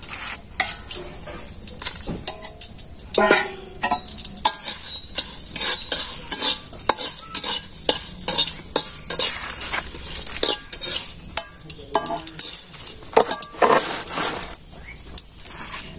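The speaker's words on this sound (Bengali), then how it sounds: "একটু তেলে গেছি শুকনো মরিচ গুলা ভাজুন" Dried red chillies fry in hot oil with a bright crackling sizzle, broken by frequent close metal scrapes and clinks of a spatula stirring the pan, with no speech.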